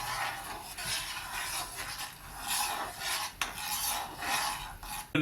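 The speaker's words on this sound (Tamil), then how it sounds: "போட்டுக்கிட்டு உடனே வந்து அதை வந்து கிண்டி விடணும், இல்லைன்னா கட்டி ஆகிடும்." Roasted semolina being stirred into boiling water for apple almond kesari, a steady close scraping and rubbing of a spoon through thick mixture in a pot, continuous with slight rhythmic swells and no talking.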